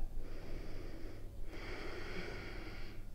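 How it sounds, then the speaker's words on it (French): Slow, deep yoga breaths drawn in and let out through the nose, two long airy passes of steady breathing with a brief pause between, close and soft with no talking. "Prenez 3 inspires et 3 expires."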